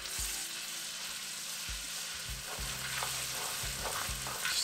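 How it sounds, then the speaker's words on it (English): Ginger and garlic paste sautéing in a kadai gives a steady close sizzle, with scraping stir strokes knocking against the pan at irregular intervals and no talking. "Just give that ginger garlic a quick saute until all the rawness smell of it goes away."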